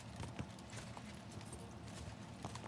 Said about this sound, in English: Your horse cannot gallop.